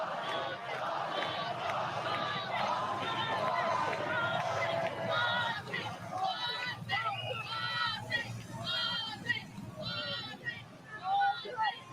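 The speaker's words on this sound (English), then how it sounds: "just as the crowd was chanting Ozzy, Ozzy, Ozzy" A large crowd of fans cheers and chants along a funeral procession for Ozzy Osbourne in Birmingham, a dense roar with rhythmic chanted bursts toward the end, mixed with nearby voices.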